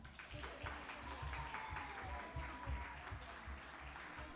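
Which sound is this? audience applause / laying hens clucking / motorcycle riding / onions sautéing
audience applause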